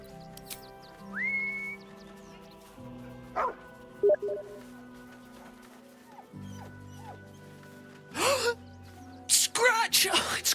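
A dog barks in the fantasy role-playing game Baldur's Gate 3, with a few sharp bursts clustered near the end, over soft background music and game sounds.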